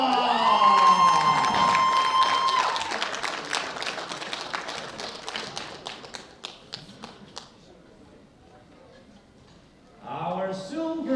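Crowd applause and cheering ring out for a bronze medalist from Kazakhstan at the 2016 World Bench Press Championships, loud at first with a sustained tone, then thinning to scattered claps and fading before a fresh burst of noise near the end.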